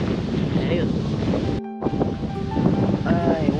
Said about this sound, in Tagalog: Pagaspos ng hangin, narinig nyo.